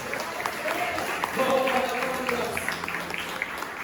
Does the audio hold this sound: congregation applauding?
yes